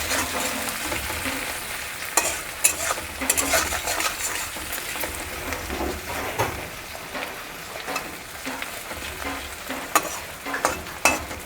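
Frying and stirring in a pan while making Maharashtrian poha, a gentle continuous sizzle with a spatula scraping and knocking against the metal at irregular intervals, close and moderately quiet.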